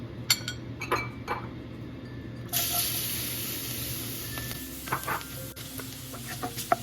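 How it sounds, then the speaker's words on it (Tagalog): Garlic sautéing in a pan for pancit malabon, a soft steady sizzle starting partway through, with light clinks of a utensil against the pan before and during, close by. "Gigisa na natin yung ating bawang."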